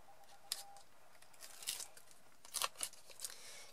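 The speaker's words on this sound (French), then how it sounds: "On va d'abord découvrir l'adhésif du fond" Adhesive backing is peeled from the paper base of a small craft wagon, faint crackling tears and rustles in short bursts, close and quiet with no talking.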